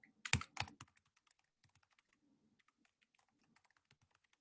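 A computer keyboard gives two sharp, louder key presses near the start, then a sparse run of faint, scattered clicks in a quiet room.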